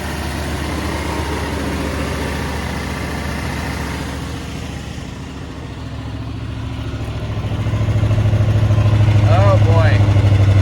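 Old Ford F-100 pickup engine running after sitting for years, a steady broadband rumble that grows louder and rougher near the end, with voices talking over it.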